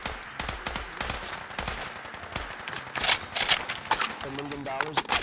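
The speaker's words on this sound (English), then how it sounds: "I'm giving you cover fire" Bursts of video-game gunfire laid down as cover fire in Fallout 4, sharp repeated shots in clusters with a voice talking over parts of it.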